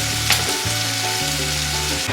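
Handmade tortillas sizzling steadily in a hot pan just after being flipped for shrimp tacos: a loud, continuous close frying hiss with a brief bump near the start, no voices.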